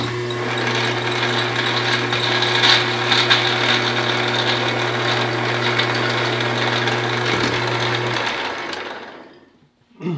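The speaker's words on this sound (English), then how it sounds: "I'll use a small file and I'll take that pitting out with the file" A small hand file worked against a spinning rifle part on a lathe to remove pitting, giving a continuous loud rasping whir over a steady motor hum for about eight seconds before the machine winds down and stops.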